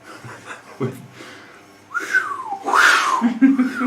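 A person whistles up close: a few airy, wavering notes that slide up and down in pitch, with breathy noise in between.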